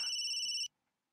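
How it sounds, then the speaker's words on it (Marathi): A phone rings indoors with a bright electronic tone lasting under a second before cutting off to silence. "फोन आला"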